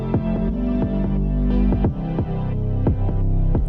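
A music track plays with a moving EQ envelope gradually opening up the lower frequencies, giving a steady pulsing pattern of repeated descending tonal hits over a sustained bass hum, alone with no voices.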